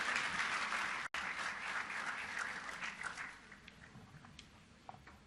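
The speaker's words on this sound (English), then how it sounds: "A big round of applause, ladies and gentlemen." Applause from a summit audience, loud and dense at first, then thinning and tapering off toward the end, with a few scattered claps lingering.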